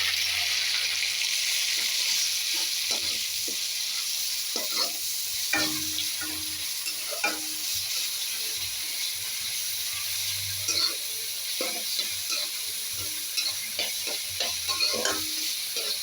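Garlic paste, ground with a small tomato, fries in a pan under a loud, constant hiss, with repeated scraping and clinking of a spoon as it is stirred, no voices.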